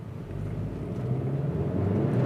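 A 2022 Hyundai Kona N-Line engine revs up under acceleration from a standstill, a low droning hum rising steadily in pitch and loudness, heard from inside the car with no talking.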